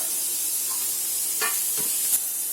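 Onion and brinjal fry in a pan over a medium gas flame, giving a steady close sizzle with a few faint stirring scrapes and no voices.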